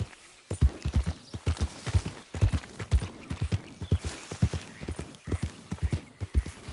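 A horse trotting in Red Dead Redemption 2, with a brisk, regular clip-clop of hooves close by, each beat crisp and evenly spaced over the whole stretch, with faint background ambience.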